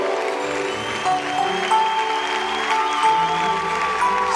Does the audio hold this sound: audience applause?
yes